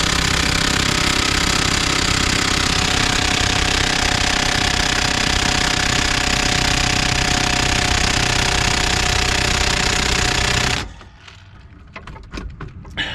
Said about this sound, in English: Since the impact didn't work